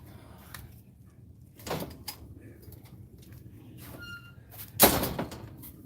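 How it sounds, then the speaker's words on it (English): A gate being opened, heard as a few faint clanks and thuds with one sharper, louder knock near the end against a quiet room-tone background. "Oh, you gotta get the gate open."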